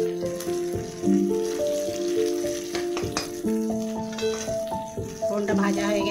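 Dry red chilli, bay leaf and cumin seeds sizzle in hot oil as a tempering for an achor chingri (jackfruit and prawn) curry, a light steady crackle under background music with occasional stirring clinks.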